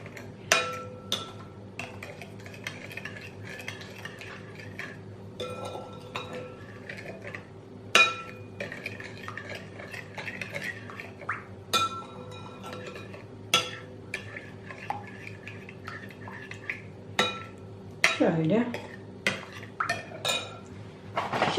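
Sugar and yeast being mixed in a bowl for soft olive buns, with repeated light clinks and scrapes of a utensil against the bowl, steady and close, with no talking.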